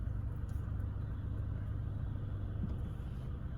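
A car drives slowly through a double mini roundabout, its engine giving a steady low rumble with no clear revving or passes, heard alone and fairly constant throughout.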